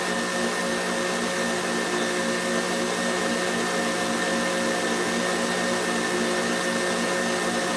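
An electric mixer whisk beats macaron batter in a bowl, a loud, steady motor whir with an even high hum that runs unbroken and close, with no talk.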